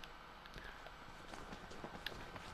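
Quiet, uneven footfalls from the asylum horror game Outlast, a string of soft steps over a low, murky ambient bed.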